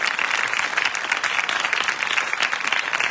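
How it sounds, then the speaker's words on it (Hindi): Loud, dense applause from a church congregation at a wedding blessing ceremony for ten couples, steady and sustained throughout with no break. "जोर से तालियों को बजाइए"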